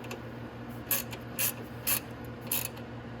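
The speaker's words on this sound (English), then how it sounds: "Now we can tighten one at the bottom." A ratchet tightens the bottom bolt on the oil cooler of a Venom X22R Max 250cc motorcycle, giving four short, crisp clicking bursts at an even pace, close and clear over a low background hum, with no talk.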